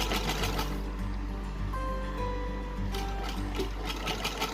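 A sewing machine joins a sleeve seam on a small child-sized night suit, running in a steady continuous hum with a fast repetitive needle rhythm throughout, close and moderately loud.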